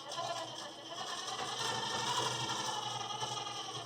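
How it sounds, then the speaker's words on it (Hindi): A sewing machine runs steadily, stitching a waistband strip onto a blouse, giving a continuous close mechanical whir and rattle with no pauses and no voices. "वही एक प्लेजर के मार्जिन से आपको सिलाई चलानी है।"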